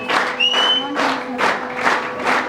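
An audience applauds warmly at an awards ceremony honoring a woman, steady clapping swelling in repeated waves over a couple of seconds, with an amplified voice running over it.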